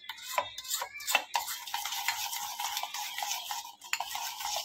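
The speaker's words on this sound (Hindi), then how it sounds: "और इसको अच्छे से अभी मिक्स कर देंगे।" A spoon or spatula stirs kadai paneer with paneer, capsicum, onion and kasuri methi in a pan, giving close, fairly loud scraping and clinking strokes, several sharp ones early and then a steady rustling scrape.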